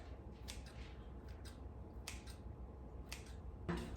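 A knife slicing through potatoes on a board for boiling: a handful of sharp, crisp cuts spaced irregularly, close and fairly quiet over a low room hum, with a slightly louder cut near the end.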